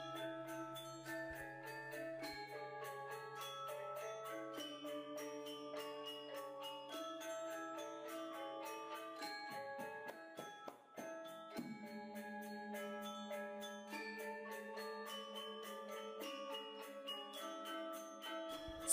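Balinese gamelan gong kebyar in five tones accompanying the Rejang Wali Kuning dance, a continuous bright metallic stream of rapid interlocking struck notes over a low sustained gong tone, played softly and evenly with no speech.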